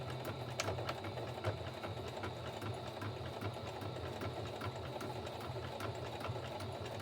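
A sewing machine stitching around a journal cover made from crunchy packaging material, its needle running in a steady rapid mechanical chatter at close range, continuous and alone without talk.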